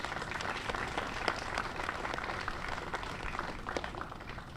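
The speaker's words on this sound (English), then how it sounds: "Let's give yourself a hand applause for that." Steady audience applause fills a community gathering marking Hawthorne's centennial time capsule presentation, dense even clapping from many hands held at a constant level for several seconds.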